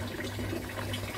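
Water flows steadily through an aquaponics bell siphon, pushing the air out in a continuous close gurgling rush with a low hum beneath, and no talk.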